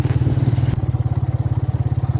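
A motorcycle ridden through farmland in Punjab, its engine a close, rapid steady thump with rushing wind noise over it.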